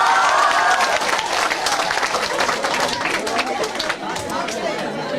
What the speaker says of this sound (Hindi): जोरदार तालियों से हैंडसम सर को स्वागत करें